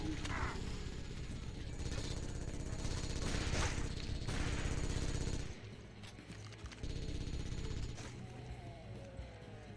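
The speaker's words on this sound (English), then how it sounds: "Where's the motherfucker that keeps shooting at us?" Gunfire in the video game God Mode, dense rapid crackling bursts layered over a rumbling background, loud for the first half and then thinning to scattered shots, with voices talking over it.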